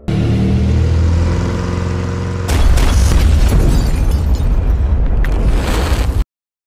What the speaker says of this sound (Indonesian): ledakan besar terjadi